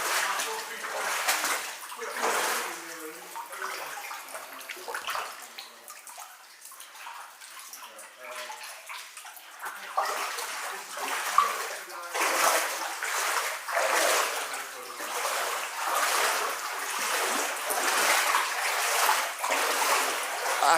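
Water splashes and sloshes in a flooded underground mine, soft repeated wading splashes that come in uneven bursts, fairly close and moderately quiet.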